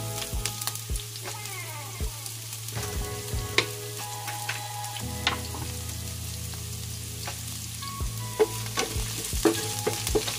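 Onions sizzle and fry in a hot pan for squid adobo, with a steady frying hiss under repeated clinks and scrapes of a spoon stirring, no talking.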